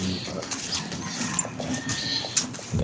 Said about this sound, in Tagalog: Meron pang aso dito.